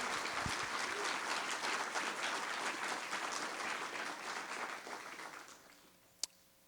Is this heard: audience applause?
yes